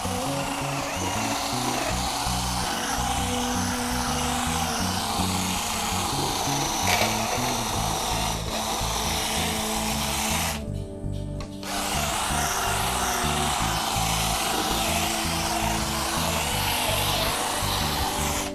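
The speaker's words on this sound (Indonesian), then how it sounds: "kemudian kita akan gunakan polisher ini saya menggunakan speed 1 ini" A Xenon 12-volt cordless polisher runs at its lowest speed setting, giving a steady whirring drone with rubbing texture that cuts out for about a second midway, then resumes at the same level.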